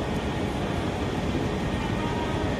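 A passenger train on a family trip in Kerala gives a constant, dense rumble and roar from start to finish, loud and close, as if heard from inside a carriage.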